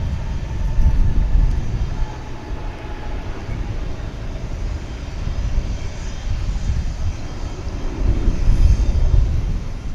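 An airliner arriving from Chihuahua at DFW airport rumbles loudly and continuously, heavy low-frequency roar swelling and easing over several seconds, with no voices.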